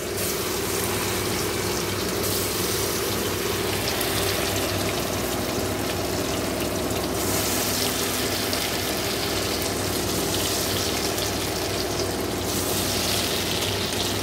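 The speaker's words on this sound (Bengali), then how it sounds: "তো দেখো এবার পিসগুলো একটা একটা করে ভেজে নেবো" Chicken pieces for chilli chicken fry in hot oil, a loud, continuous broadband sizzle that holds steady throughout with a low hum underneath and no talking.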